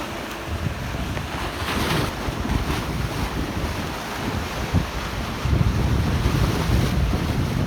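Sea waves wash and surge around a fishing boat on salt water, a continuous rough rush mixed with heavy wind buffeting the microphone, loud and close.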